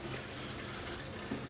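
Hot water runs steadily from a tap, a brief, soft, continuous splashing hiss.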